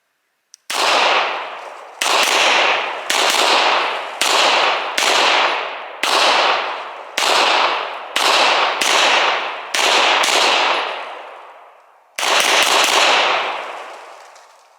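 Beretta M9A4 pistol firing about ten loud, sharp shots in an irregular sequence, each crack ringing out with a decaying tail, with a longer pause before the final shot.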